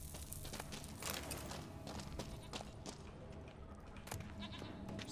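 A goat bleats somewhere in a countryside scene in The Witcher 3 game, faint calls mixed with hoof clops and footsteps over steady ambient game sound.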